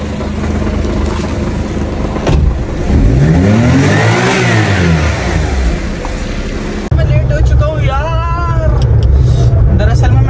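Car engine revving loudly after water has been added, rising and falling in pitch through several surges, with people talking over it.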